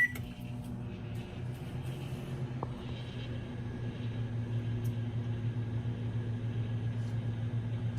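A running microwave oven hums steadily while heating butter in a metal bowl, a continuous low drone with a faint higher whine and no voices.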